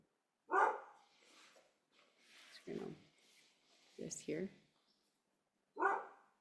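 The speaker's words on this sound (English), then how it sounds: "My neighbor's dogs are outside right now." Several dogs bark in short, scattered bursts at moderate distance, while a person speaks quietly between the barks.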